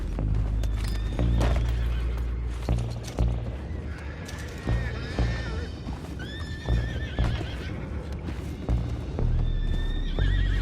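Horses in Red Dead Redemption 2 neigh and whinny repeatedly over steady hoof clip-clops, loud and close, with busy background noise and occasional voices underneath.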